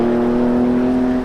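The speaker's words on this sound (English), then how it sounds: "the engine sounds perfect" A Porsche engine runs smoothly at a steady, even drone, heard close and loud with no speech, its condition sound after a loss of power.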